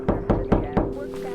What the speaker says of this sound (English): there was a knock at our side door.